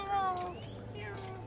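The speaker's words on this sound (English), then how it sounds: "Little kitty." A small cat gives a short meow close by, a thin rising-and-falling cry over a faint background at an ice cream stop outdoors, with a brief voice nearby.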